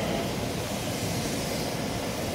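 Train noise at Rotterdam Centraal station: a steady, loud broadband rumble and rush from a passing or idling train, continuous throughout with no speech.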